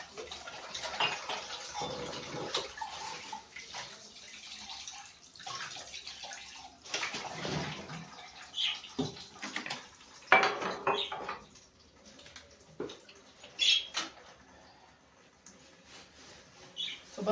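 A tea cup is rinsed under a running kitchen tap, with water splashing and hissing in bursts and a few light clinks of the cup against the sink; no one speaks.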